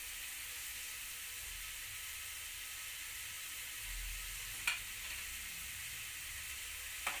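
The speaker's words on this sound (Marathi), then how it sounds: "बघा 5 मिनिटे आपली भाजी परतवली फक्त।" Vegetables and tomatoes sauté in a kadai pan on a home stove for a kadai pizza, giving a steady, even sizzle throughout, with a couple of brief stirring clinks near the middle and end, and no talking.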